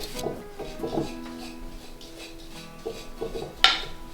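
Cookie dough made with freshly milled einkorn flour being stirred by hand in a bowl, soft scraping knocks of spoon against the bowl repeating at an uneven pace, faint and close.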